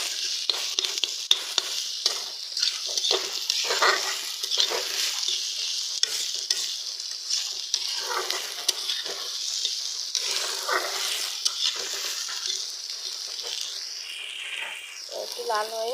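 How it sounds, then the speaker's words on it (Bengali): Chopped onions frying in oil until reddish, with a constant hiss and repeated spatula scrapes and stirs across the pan, close and steady, with no talking. "পেঁয়াজগুলো একটু লাল করে আমি ভেজে নেব"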